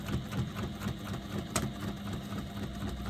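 A sewing machine runs steadily while basting stitches along a garment lining, giving a close, fast mechanical whirr with a quick regular pulse of the needle, quiet and uninterrupted.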